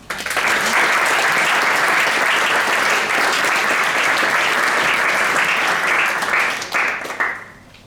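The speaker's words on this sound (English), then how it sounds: "Big applause." Loud, sustained applause from a large audience at a science-talk competition semi-final fills the room, steady clapping throughout before fading out near the end.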